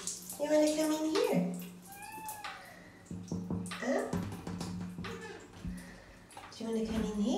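A home shower runs with a soft, continuous spray of water while someone talks over it in a gentle, coaxing voice.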